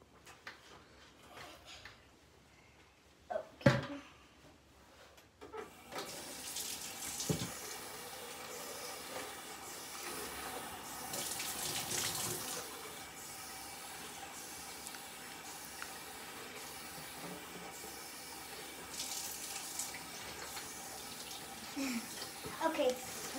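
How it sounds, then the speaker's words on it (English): Water runs from a kitchen tap into a sink during dishwashing, a steady hiss starting after a few clunks and knocks, with people talking quietly in between. "Okay, the water's on."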